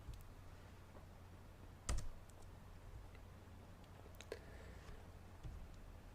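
Sparse, quiet keystrokes on a computer keyboard while entering a spreadsheet formula, a few separate clicks over a faint background hum.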